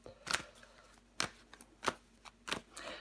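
Tarot cards are handled and laid down on a surface, a few quiet, sharp flicks and soft slaps spaced irregularly, close and faint with nothing else around.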